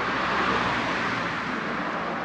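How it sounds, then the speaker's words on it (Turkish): Steady roar of cars rushing past on a nearby road beside a lakeside fishing spot, a continuous broadband wash of traffic noise with no pauses. "Arabalar yanımda vızır vızır geçiyor."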